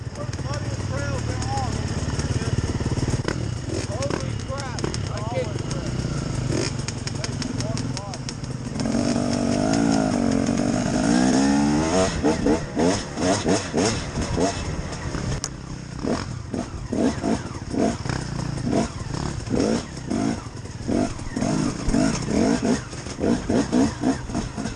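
Dirt bike engine on a slippery, root-covered trail, still cold and running a little rich, revving and burbling with throttle changes over about 25 seconds while a rider talks over it.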